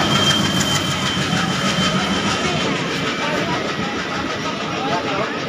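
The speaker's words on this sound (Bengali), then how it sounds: "ওই ট্রেনটা যাচ্ছে রাধিকাপুরের দিকে," A train headed toward Radhikapur rolls along the rails in a loud, continuous rumble with rhythmic clatter from the wheels, heard from on board a moving train.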